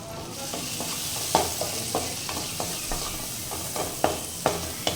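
Turmeric and Kashmiri chili powder fry in a pan while a spoon stirs them. A soft sizzle runs underneath repeated sharp scrapes and taps, close up and fairly quiet.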